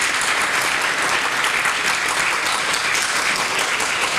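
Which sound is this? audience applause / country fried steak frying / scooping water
audience applause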